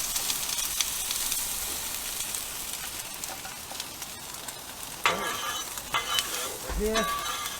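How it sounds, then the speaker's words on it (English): Frozen French fries sizzle and fry on a Blackstone flat-top griddle, a steady close crackle, with brighter bursts of sizzling and scraping toward the end as the fries are spread into one layer. "let's get the French fries on the griddle"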